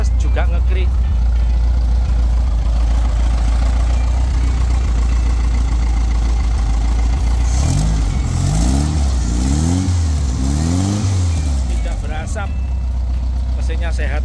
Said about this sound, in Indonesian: Ini sudah pakai muffler by Burhan ya. Jadi suaranya sangat ngebas, juga ngekrik.